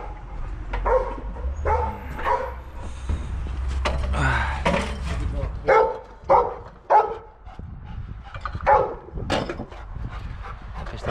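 Dog barks in short, loud bursts through the second half, following a stretch of rumbling outdoor noise at a forest work site where a machine is running.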